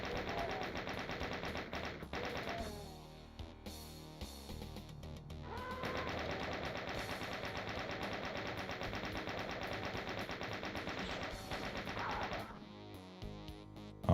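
Rapid gunfire from the video game Doom 2, a dense run of repeated blasts and clatter layered over game music and effects, loud and sustained for most of the stretch with a brief lull near the end.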